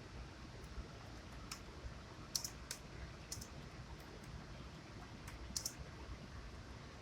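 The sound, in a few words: typing on a computer keyboard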